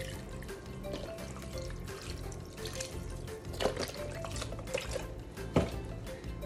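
Three cups of beef broth poured into a pot of beef and vegetable soup with tomatoes: a soft, steady liquid pour with gentle splashing and a few small drips, quiet and close, no talking.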